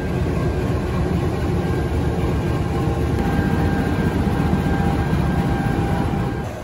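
A CC206 locomotive, number 1339, hauling the Argo Wilis passenger train idles at track 4 of Bandung station, giving a steady, loud, low diesel rumble with broadband hiss that holds evenly throughout.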